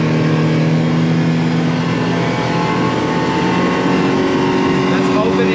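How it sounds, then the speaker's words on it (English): Yamaha 115 HP outboard on a 2006 Duckworth Advantage 18 boat pulls hard under added throttle, a loud steady engine drone filling the whole stretch with a faint rising tone, close and continuous, a voice partly under it. "So I'm going to add some more throttle here."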